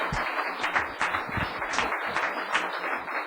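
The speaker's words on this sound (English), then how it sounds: "Round of applause, please." Scattered clapping from people gathered at a town council meeting after an award presentation, a loose rhythm of individual claps close by and moderately loud.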